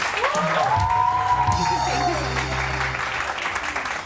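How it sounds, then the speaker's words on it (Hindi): Studio audience applause on a Pakistani morning television show, a full, steady clapping from a crowd that runs the whole time, with a bright tone and music rising briefly behind it. "एक बार जोरदार तालियां हो जाएं"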